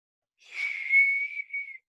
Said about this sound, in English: Page whistles.